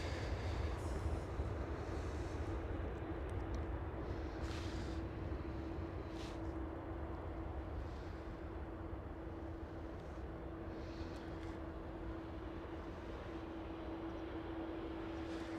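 A KLM Airbus A330 rolls for takeoff on the full length of the runway at Amsterdam Schiphol, a distant steady jet roar with a rising whine, heard from afar.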